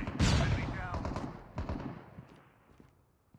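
Rapid gunfire bursts in the mobile shooter game Call of Duty Mobile, a loud close volley at the start fading into scattered shots, with a voice in the background.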